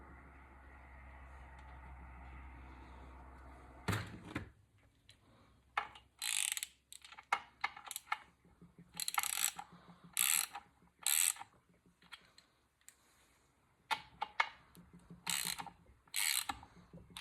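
A ratchet works a sealed bolt into a Ford toploader four-speed gearbox during a rebuild, giving bursts of sharp, close metallic clicking in short runs with pauses between, after a low steady hum at the start.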